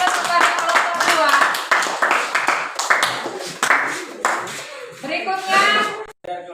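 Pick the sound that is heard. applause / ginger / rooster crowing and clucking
applause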